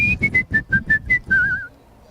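Whistled holiday melody at an outdoor street parade, a run of about eight short clear notes ending in one longer wavering tone, close and fairly loud over a low crowd murmur.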